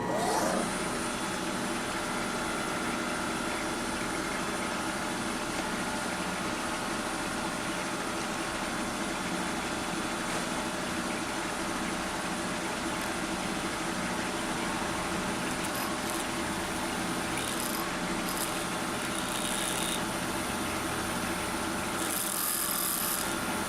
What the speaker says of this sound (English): we're going to take this very slowly and carefully and drill.